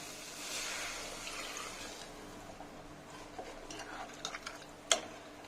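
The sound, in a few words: pouring hot water into gravy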